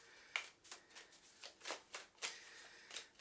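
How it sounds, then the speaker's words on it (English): A deck of tarot cards being shuffled by hand, a series of quiet, crisp riffling bursts repeating roughly every third of a second, close and soft with no talking. "So while I'm shuffling these"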